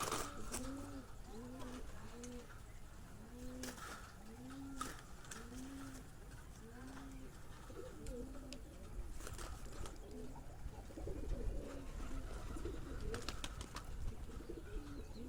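A Bombay pigeon coos on a farm in a rhythmic series of soft, rolling calls, fairly close, over faint background noise and occasional rustling.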